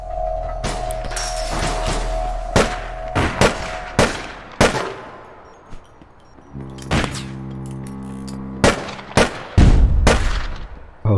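Pistol fire in the online shooter APB Reloaded: bursts of sharp, loud gunshots in an uneven rhythm over steady in-game background hum, with some heavier thuds and pauses between volleys.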